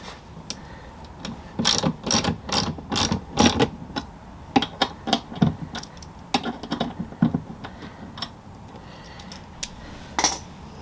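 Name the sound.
ratchet on engine guard bolts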